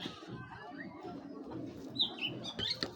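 A pair of white blood-checker pigeons coo softly and close by, low throaty calls with a few sharper chirps toward the end.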